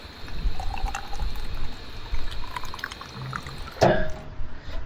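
Drinking water runs from a public fountain on a cycling trip to Podersdorf am See, a steady splashing pour under outdoor background noise, with a brief sharper trickle near the end.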